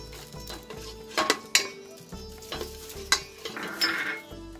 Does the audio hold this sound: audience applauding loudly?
no